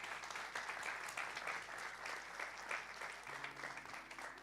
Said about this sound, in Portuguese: dê o melhor aplauso ao Senhor para celebrar.